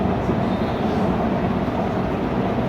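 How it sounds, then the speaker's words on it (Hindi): A train running on a railway, heard as a steady, loud, broadband rumble and roar that holds without a break, with no voices over it. "अब जो रेलवे, आप कभी ट्रेन में सफर किए तो आवाज कभी सुनी है?"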